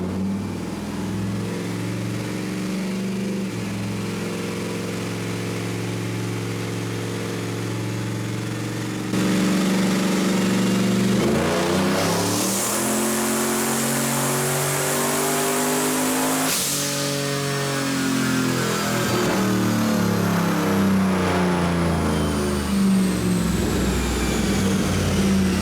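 A 2003 Chevrolet Silverado truck making about 520 wheel horsepower with methanol injection revs loudly and steadily. Its deep engine drone climbs in pitch partway through, holds high for several seconds, then settles back with no speech over it.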